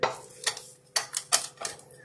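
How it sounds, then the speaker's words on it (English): A spatula scrapes down a mixing bowl in a home kitchen during Thanksgiving cooking, making a run of short, sharp scraping strokes about every half second, fairly close and clear. "now we're going to just scrape that bowl down"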